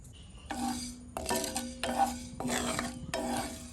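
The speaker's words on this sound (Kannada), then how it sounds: "ಒಳ್ಳೆ ಘಮ ಬರುವವರೆಗೆ ರೋಸ್ಟ್ ಮಾಡುವ." Whole pepper, fennel and cumin seeds dry roasting in a pan while being stirred, giving bursts of rustling, scraping spoon strokes with brief clinks, fairly close and steady, no talk.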